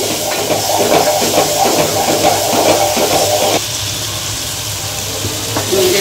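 Ginger and tomato sizzle in a pan while being sautéed for mung dal, a steady close hiss with faint stirring scrapes, the frying noise dropping a little softer partway through.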